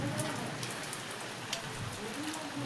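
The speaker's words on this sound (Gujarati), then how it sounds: "આપણે વરસાદ કેવો છે તમે જોઈ લો." Steady rain falls on a home courtyard with lemon, guava and grapevine plants, a continuous even patter at moderate level with a few sharper drops and no voices.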